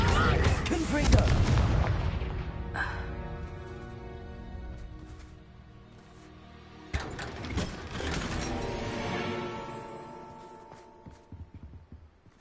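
Spell blasts from a Harry Potter video game during a Gryffindor keeper trial, Levioso and Confringo, land as loud booming impacts at the start and again near the seventh second, with mechanical clatter and fading rumble between them.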